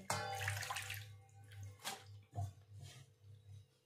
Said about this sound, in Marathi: इथे आपल्याला 1 ते 2 पाण्याने स्वच्छ धुवून घ्यायचे